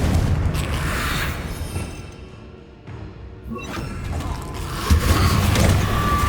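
Confringo fire spell explosions in the Hogwarts Legacy video game, with booming blasts and rumbling impacts that dip in the middle, then swell again near the end.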